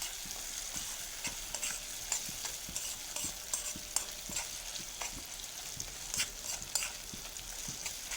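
Tomato, roasted peanuts and sesame seeds are stirred in a sizzling pan for spiny gourd curry, with regular spoon scrapes and clinks ticking over a continuous close frying hiss.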